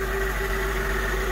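A Mercedes car engine idles right after a jump start, a steady, loud low hum with an even tonal drone and no variation over the short stretch.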